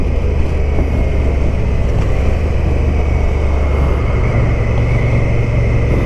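A Honda motorcycle being ridden gives off a steady, loud roar of engine and wind rumble that holds for the whole stretch with no break and no voices.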